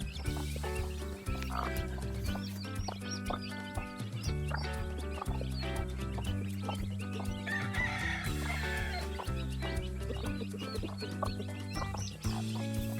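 A large flock of newly hatched chicks being fed on a small farm, with dense, continuous clucking and peeping that carries steadily throughout at moderate level.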